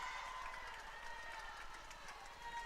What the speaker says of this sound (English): I don't think Caitlin likes that sound the crowds are making